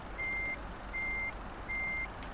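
Three evenly spaced, steady reversing beeps sound from a lorry in Euro Truck Simulator 2, each lasting about half a second, clear over a low engine rumble.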